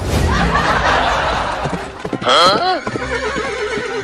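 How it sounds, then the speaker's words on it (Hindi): A horse gives a loud, wavering whinny midway through, with hoof clatter and scuffling around it and a voice shouting before and after. "ये घोड़ा मेरे कहने से भी नहीं रुक रहा बापुआ"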